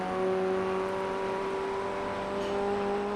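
A Ray FF1600 race car engine in iRacing drones steadily under load, a constant close, loud tone held without a break through the whole stretch, no voices over it.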